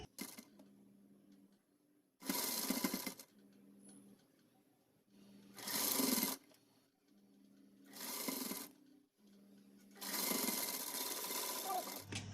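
Sewing machine stitching a hanger loop onto a child's Pathani kurta, running in five loud separate bursts of about a second each, with quiet pauses between them.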